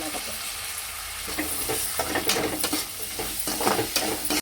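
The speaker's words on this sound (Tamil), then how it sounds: "தக்காளி வெங்காயம் நல்லா வதங்கிருச்சு" Chopped tomatoes and onions sauté in a hot pan for a sundakkai kuzhambu, with a close, steady sizzle and the scrape of a spatula stirring in uneven strokes.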